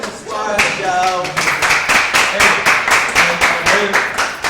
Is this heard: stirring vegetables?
no